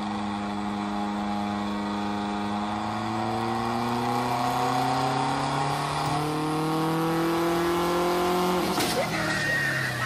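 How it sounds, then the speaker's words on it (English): Car revving hard on a dyno run, engine note climbing steadily in pitch over several seconds, loud and close, with a sharp bang near the end as the pull breaks off. "Ricer dyno run."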